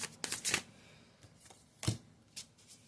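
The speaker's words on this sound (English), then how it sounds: "let me give this another good shuffle" A deck of tarot cards is shuffled by hand in a few quick, close riffling bursts separated by short pauses, with no talking.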